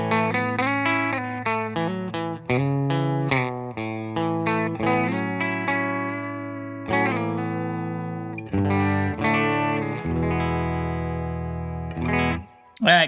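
A Bunting Guitars Alice electric guitar through a Benson Amps Monarch reverb amp plays a stretch of chords and single notes, distorted, with a wash of reverb. The tone is loud and steady, stops briefly, and ends with a short burst.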